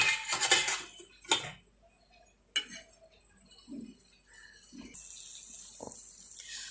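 Small snacks set down one at a time on a ghee-greased dosa pan over a low flame, giving a few sparse clinks and soft taps with quiet gaps between them.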